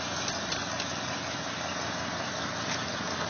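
Loud truck engine idling, a steady low rumbling chug that runs evenly throughout at moderate level with no revving or voices.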